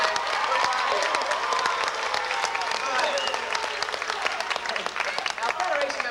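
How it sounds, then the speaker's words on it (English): Audience applause fills a Disneyland show in 1989, a dense, steady wash of clapping mixed with crowd noise and some cheering, holding loud and close throughout with voices faintly under it. "Round of applause, folks."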